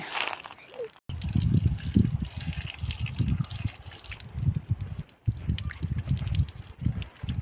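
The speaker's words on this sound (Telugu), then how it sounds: "ఈ ట్యాప్ దగ్గర అయితే వాటర్తో కడిగేస్తున్నాము" Tap water runs and splashes steadily over raw mangoes as they are washed, with a person talking over the running water.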